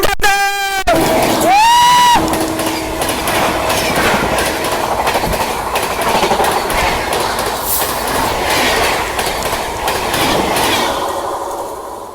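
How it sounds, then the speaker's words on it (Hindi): A double-decker AC superfast express train pulls in at Ghaziabad, opening with a loud horn blast before steady rumbling and clattering wheels roll past up close, with a squeal of wheels near the end. "सामने गाजियाबाद में अराइवल हो रहा है double decker AC superfast express का"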